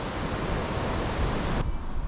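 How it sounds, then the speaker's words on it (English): Steady rushing flow of the River Derwent at Milford in the Peak District, a continuous broadband wash close by that abruptly thins and softens near the end, with no voices. "I was riding and I could hear that sound of water"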